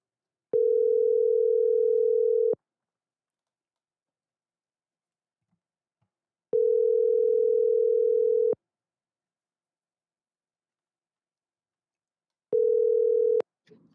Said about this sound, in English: When you hear the phone ring.